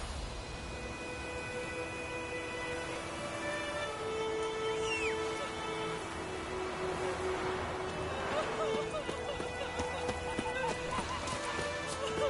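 Roach, a horse in a PS4 video game, gallops along at a steady pace. Hooves clip-clop continuously at close range, a whinny rises partway through, and game ambience and music sit underneath.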